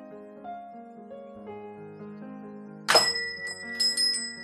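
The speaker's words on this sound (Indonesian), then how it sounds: "Lonceng pintu kedai berbunyi menyadarkanku." After gentle piano notes, a bright shop door bell rings suddenly and jingles a few more times as it fades.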